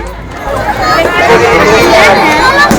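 Crowd gathered for the Chhath festival in Rairangpur, a steady loud hubbub of many overlapping voices and chatter close around, with no single voice standing out.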